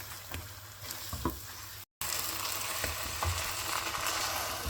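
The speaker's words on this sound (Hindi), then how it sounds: "थ्री से 4 मिनट चिकन की भुनाई करेंगे। फ्लेम हमने मीडियम और हाई रखना है।" Chicken sizzles and fries steadily in a pan over a medium-high flame, a dense continuous crackle with occasional stirring scrapes, broken by a brief cut of silence partway through.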